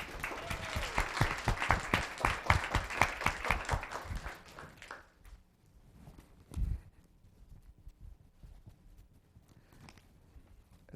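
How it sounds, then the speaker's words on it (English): Round of applause at a Los Gatos town council meeting, a crowd clapping briskly for about five seconds before it cuts off into a quiet room with faint shuffling and a single low thump. "So one more round of applause."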